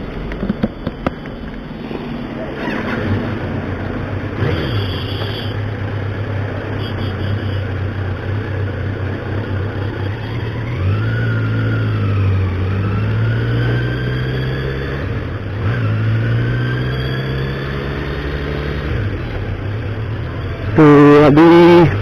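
A second-hand superbike is ridden on the road. Its engine revs rise and fall through the gears, heard close from onboard under steady wind buffeting, with a sharp burst of noise at the very end.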